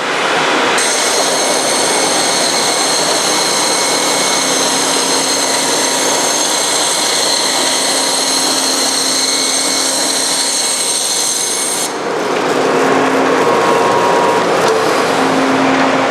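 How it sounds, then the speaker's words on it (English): A Model B2 large table bandsaw with a 3-tooth-per-inch blade starts and runs with a loud, steady mechanical whine and rumble. Near the end the tone shifts into rougher, noisier running. "So start the saw."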